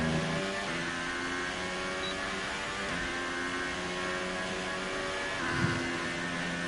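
Formula 1 car from the F1 2018 racing game, its engine droning steadily with harmonic whine, rapid automatic gear changes and a few short revving blips, no voices.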